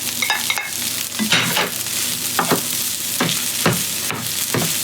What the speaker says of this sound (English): Put the egg in there.